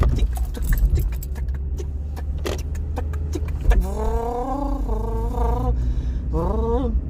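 Sharp clicking taps from a voice imitating a car's turn-signal ticking repeat at an uneven pace, then a sustained wavering vocal tone follows, close and fairly loud.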